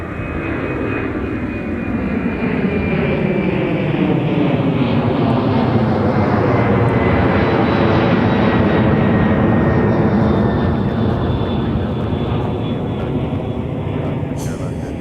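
Airliner taking off from runway 4 at Minneapolis–St. Paul airport, a loud sustained jet engine roar rising and sweeping in pitch as it climbs away, with radio chatter and talk underneath.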